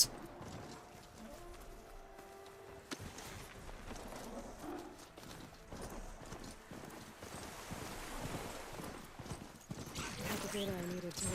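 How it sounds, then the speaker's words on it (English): Rhythmic clip-clop of a horse mount's hooves in the video game Horizon Forbidden West, faint and steady, with a music bed and occasional effects around it. "Horse."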